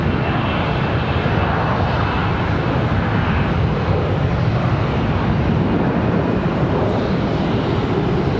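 Frontier airliner on departure at Charlotte Douglas International, a loud continuous roar of jet engines with broadband rushing noise holding steady throughout, no talking.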